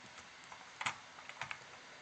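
Keys tapped on a computer keyboard during a beginner programming lesson: a few quiet, scattered clicks, with a small cluster of sharper strokes in the middle, in an otherwise hushed room with no talking.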